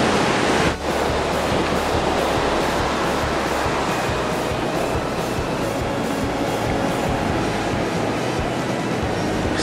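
Running water streams steadily as someone is rinsed off outdoors in summer, a broad close hiss sustained for nearly ten seconds with a brief dip near the start.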